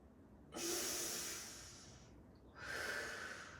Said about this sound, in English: Hypopressive breath, expand backside ribs.